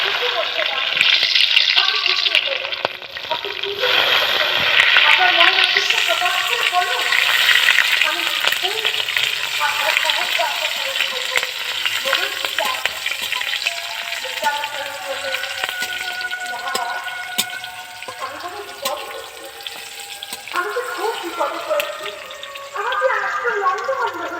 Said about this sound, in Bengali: এইবারে যে কাঁচা লঙ্কাগুলো কেটেছিলাম, সেগুলো এই তেলের উপরে দিলাম।